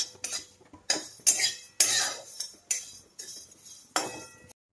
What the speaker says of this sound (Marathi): ह्याच्याबरोबर हे भाजून घेते. हे जे काही मसाले आहेत ना ते थोडेसे ना हलकेसे भाजून घेणार आहेत.